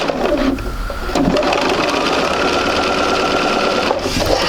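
A sewing machine stitches a quilt sampler block with a loud, steady, close mechanical whir that runs almost without a break, easing only briefly near the end.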